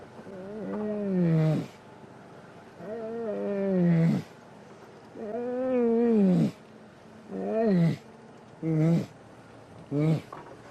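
A voice mimics a lion roar, drawn-out moaning calls that start long and swell, then shorten into a series of quicker grunting bursts, close-miked with nothing else underneath.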